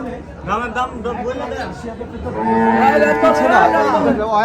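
A cow lets out a long, drawn-out moo nearby at a cattle market, following a stretch of people chatting in the background.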